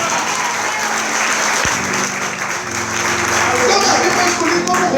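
A church congregation applauds together during a sermon, a dense, steady wash of clapping that fills the space, with voices and crowd murmur mixed in beneath.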